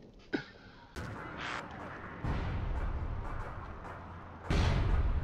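Weapon fire in the online shooter APB Reloaded, including grenade launcher blasts. A sharp report is followed by heavy booming explosions and a sustained rumbling roar, fairly loud and close, with no talk.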